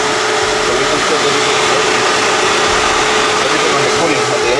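A car engine warming up and running steadily, with a constant broadband hum and a faint tonal whine, loud and continuous throughout.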